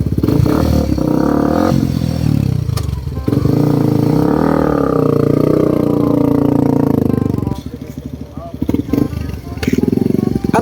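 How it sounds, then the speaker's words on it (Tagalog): A motorcycle engine revs hard during a test run, a loud, steady roar that rises and falls for several seconds. People talk over the engine throughout. "tinisting natin yung motor"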